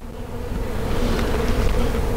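Golden Cordovan honey bees buzz steadily around two newly installed hives, a continuous close drone with a faint whine, heard alone without talk.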